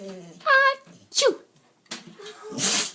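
A short, sharp animal sneeze bursts out near the middle, with other brief animal and human vocal sounds around it and a breathy noisy burst at the end.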